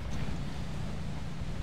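Steady wind roaring across a lakeside campsite among trees, with rough water and small waves lapping nearby, a continuous low rumble filling the whole stretch without voices.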